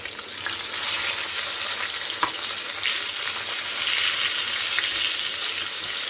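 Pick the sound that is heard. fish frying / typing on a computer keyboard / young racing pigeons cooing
fish frying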